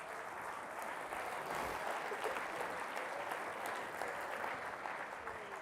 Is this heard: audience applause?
yes